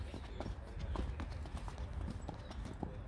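Horse hooves clip-clop in a steady, fairly close rhythm of distinct knocks, heard alongside people talking in the background at a stable or farm setting.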